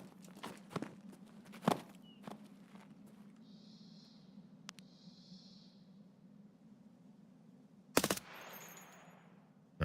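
Short gunshots crack from a video game between quieter stretches, including a sharp burst near the end, over a low steady hum.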